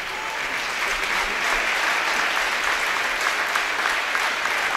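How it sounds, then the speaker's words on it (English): Basketball crowd applauding an injured player at a game, a sustained burst of clapping from many hands filling the arena at a fairly even level. "As the crowd applauds for her,"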